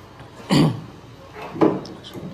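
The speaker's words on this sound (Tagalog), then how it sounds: "Inuubo kasi ako sa yung panahon dito sa amin, laging umuulan." A pair of coughs about a second apart, moderately loud and close, over a faint background hiss.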